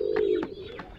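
A dove gives a soft low coo, close and quiet, with a few faint clicks around it.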